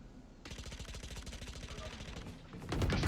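Gunfire in a Valorant ranked match: a rapid, steady stream of automatic shots runs for over two seconds, with a louder burst at the end, while faint voices can be heard underneath.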